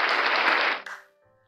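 Church congregation applauding together, dense steady clapping that fades out quickly after about a second, leaving quiet room tone.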